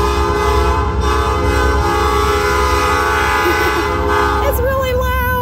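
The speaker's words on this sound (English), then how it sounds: "There's a train coming." A train passes close by, its loud rumbling wheels running continuously under a sustained blaring horn. The horn shifts pitch near the end as the train goes by.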